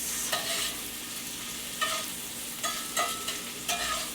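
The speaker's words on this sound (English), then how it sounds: "saute the shrimp in your pan." Shrimp sautéing in a pan for scampi, a steady close sizzle punctuated by four or five sharper scraping stirs, moderately loud with no voices.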